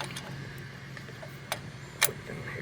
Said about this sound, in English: That's just a regular 12mm wrench, nothing fancy